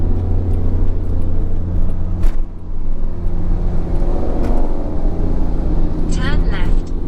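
A car on Winston Jones Highway in Manchester, Jamaica, makes a steady, close engine and road rumble that runs without a break, with a brief whoosh of passing traffic.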